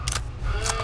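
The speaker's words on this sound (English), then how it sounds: "Okay, let's reload." A weapon reloading in Return to Castle Wolfenstein, a quick pair of metallic clicks and clacks lasting under a second, close and fairly loud over low game rumble.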